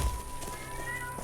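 A cat gives a brief, faint meow nearby indoors, a short quiet call over a soft background hum.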